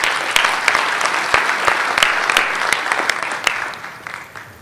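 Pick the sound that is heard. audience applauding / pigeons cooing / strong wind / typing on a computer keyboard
audience applauding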